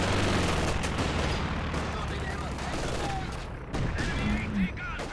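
A mortar strike and gunfire in the World War II strategy video game Company of Heroes: continuous rattling small-arms fire and machine-gun bursts under a dense battlefield rumble, with a heavier impact near the end.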